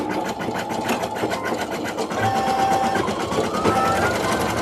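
An embroidery machine stitches felt masks, giving a steady, fast mechanical whir with rapid needle clatter that continues without pause, close and fairly loud, with some faint background noise.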